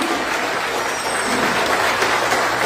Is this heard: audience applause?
yes